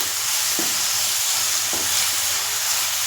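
Grated carrots frying in a pan for carrot and semiya payasam, a continuous hissing sizzle with two soft stirring scrapes.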